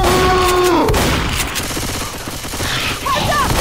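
Loud bursts of gunfire in the zombie shooter Left 4 Dead 2, dense rattling shots running throughout, with brief tonal game effects near the start and end.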